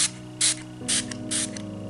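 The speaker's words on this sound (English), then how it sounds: "I'm going to wet my brush with a bit of the Too Faced Hangover Setting" Three short, bright hissing sprays from a Too Faced Hangover setting spray pump bottle onto a brush, evenly spaced, close by and with no talking.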